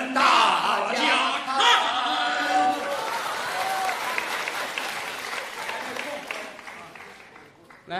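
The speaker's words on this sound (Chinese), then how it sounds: "掌声鼓励" A Deyunshe crosstalk audience at a crosstalk show breaks into loud applause mixed with cheers and shouting voices. The clapping surges at first, then thins and fades toward the end.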